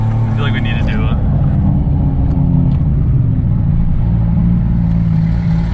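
Loud, continuous engine roar from a 700-horsepower Lexus IS300, heard up close with a steady low rumble and some revving throughout, along with background voices.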